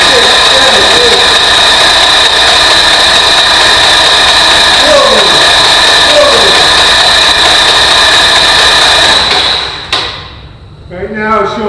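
An RV-8 aircraft engine cranks and runs with a loud, steady droning roar close by, then cuts and sputters near the end.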